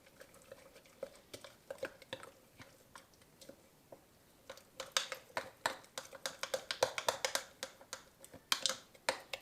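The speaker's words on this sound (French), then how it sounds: "Je remue le tout." Sourdough starter stirred with lukewarm water in a container, a run of sharp scraping clicks and taps that grow louder and quicker toward the end, with no talk.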